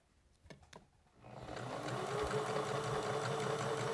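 After a couple of soft taps, a sewing machine starts up and stitches fabric in a steady, fast whir, close and continuous, while a beginner card deck holder is sewn.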